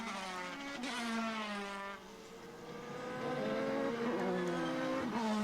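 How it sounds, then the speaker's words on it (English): A pack of Dallara F3 single-seaters races past at a Formula BOSS Ireland round, engines screaming through rising and falling gear changes, several cars close together and continuous, with no talk. "Michael Roche leads a pack of no less than 6 Dallara F3s"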